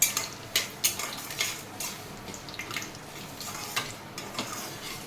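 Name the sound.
tempering spices frying in a pan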